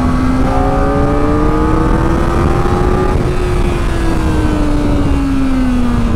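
A Kawasaki ZX4RR motorcycle accelerates hard in second gear, its high-revving engine whining upward in pitch before easing slightly, loud and close throughout with no talking.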